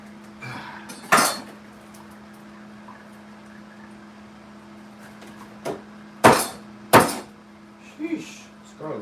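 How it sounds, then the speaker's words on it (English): Tough head of garlic being stabbed and smashed open on a kitchen counter, giving several sharp, loud knife-and-board impacts spaced irregularly over a low steady fan hum, with softer knocks near the end. "Sheesh, this garlic is tough. Stab it open. I'll be able to smash it open, I have to stab it."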